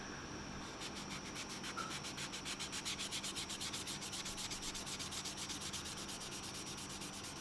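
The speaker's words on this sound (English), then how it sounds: "Infinity 1000 grit sanding sponge doing its thing" A 1000 grit sanding sponge rubs lightly over Mr. Surfacer primer on a plastic model aircraft wing, a soft, steady rhythmic scratching of quick back-and-forth strokes, close and faint.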